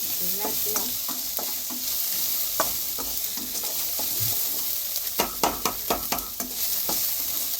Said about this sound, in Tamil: எல்லாத்தையும் நல்லா வதக்கிப்போம் அந்த பெருங்காயம் போட்டோன்னா ஒரு வாசனை வருது